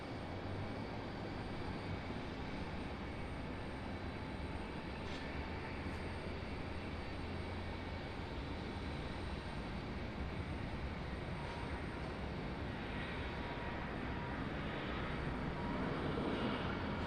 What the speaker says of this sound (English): 2 Neos back to back, something we don't typically see at RDU, especially that Delta A321.